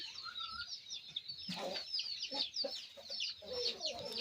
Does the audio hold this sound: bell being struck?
no